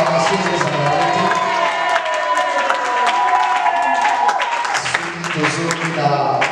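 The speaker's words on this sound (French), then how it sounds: "Moi, je dois appeler une acclamation des amis." A church congregation at a New Year's greetings gathering breaks into applause and acclamation, with loud clapping, cheers and whoops mixed with voices and talk throughout.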